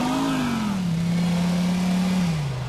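Motorcycle engine revving in Grand Theft Auto IV, a loud, close, buzzing engine note that dips and then holds before dropping lower.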